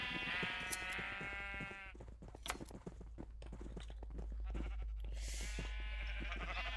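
Minecraft sheep bleat in wavering cries at the start and again near the end, with clicks and soft steps between them over a low hum.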